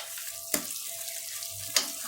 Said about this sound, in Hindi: अब गोश्त को हम अच्छी तरह से भूनेंगे प्याज के साथ ही।